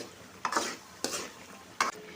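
A spoon drags three times through an oily eggplant curry in a pan, making short, close scraping stirs over a faint background sizzle.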